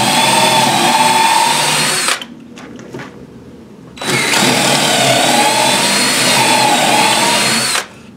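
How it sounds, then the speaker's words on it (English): 3/8 inch power drill driving 1/2 inch, 10-inch lag bolts while building a mini conveyor dryer, whining loud and close in two long runs with a short pause between. "So I'm using a 3/8 inch drill"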